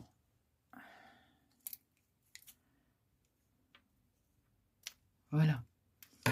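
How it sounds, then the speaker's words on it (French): Scissors snip a few times while a scrapbooking thread spool is made, giving sparse short clicks and cuts close by, with one louder handling rustle near the end. "Alors, ma paire de ciseaux,"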